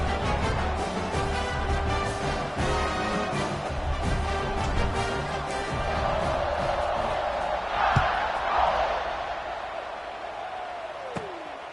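Stadium crowd at a college football video game, a broad roar of many voices continuing under commentary, swelling briefly before fading.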